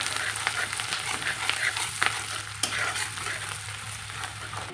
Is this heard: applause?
no